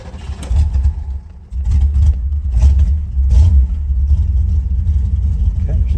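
A 1967 Lincoln V8 cranks and fires up, then settles into a loud, close, rumbling idle with a few throttle surges, steady to the end.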